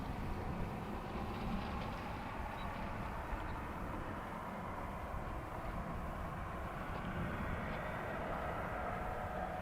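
Airliner climbing out after an early morning departure, a steady distant roar of jet engines with a broad, even rumble that barely changes in level.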